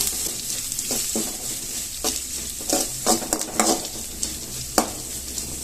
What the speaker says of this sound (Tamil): இப்போ இதை லைட்டா வதக்கிக்குவோம்